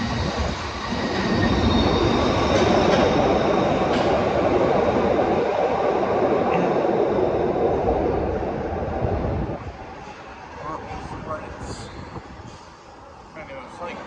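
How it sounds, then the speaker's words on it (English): A train in Glasgow Central station rolls past with a loud, sustained rumble and rattle of wheels that fades toward the end, leaving a faint hum and distant station sounds. "it's just a third generation stock train"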